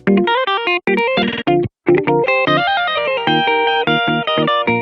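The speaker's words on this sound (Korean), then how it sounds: "오버드라이브는 하이가 강조된 텔레캐스터의 소리와 최고의 궁합을 자랑하죠" A Telecaster electric guitar through an overdrive pedal plays a bright, punchy riff up close and loud, with choppy repeated notes and short gaps between phrases.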